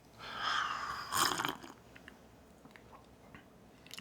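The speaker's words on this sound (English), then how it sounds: "So let's taste this coffee." A close slurping sip of freshly brewed coffee, a loud drawn-in airy gulp lasting about a second followed by quieter small mouth and cup sounds.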